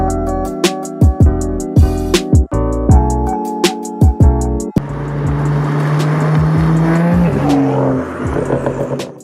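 A BMW M235i engine idles with a few sharp revs, then settles into a steady drone as the car drives off, close and loud throughout.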